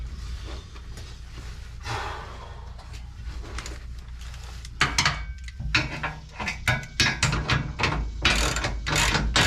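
A ratchet wrench tightens hitch bolts on a 2006 Toyota Tundra V6 4.0L during a Draw-Tite rear hitch install, at first soft and scattered, then loud, fast clicking strokes up close.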